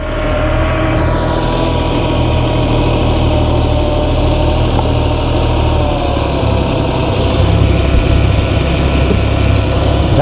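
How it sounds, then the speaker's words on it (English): A four-stroke engine idles steadily right after its carburettor is adjusted, a loud close low rumble with an even pulse, and a pitch that dips slightly early and holds level afterward. "pull this out until I get to what I think sounds like a comfortable idle speed"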